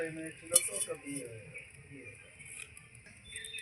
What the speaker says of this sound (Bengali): আমি এবার সবার প্রথমে কড়াই বসিয়ে দিচ্ছি